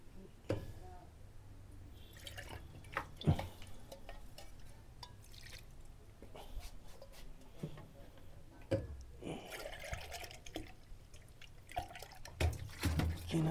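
Bought drinking water poured into a pot while making idli batter at home, a trickling, dripping flow in short bursts with splashes, close by, with occasional talk around it.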